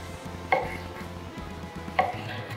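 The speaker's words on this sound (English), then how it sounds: "So now let's cut into these and see if there's a difference of doneness on the inside." Two crisp knife strokes cut through cooked steaks on a cutting board, each a short bright scrape about a second and a half apart, heard close and fairly quiet over a low steady room hum.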